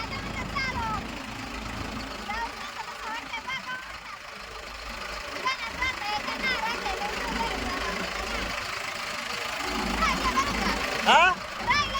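A tractor engine runs steadily with a low, knocking idle throughout, while people talk over it nearby.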